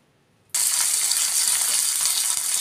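A sudden loud sizzle and crackle bursts in after a brief quiet moment, then keeps hissing steadily as mustard seeds spatter in hot sesame oil.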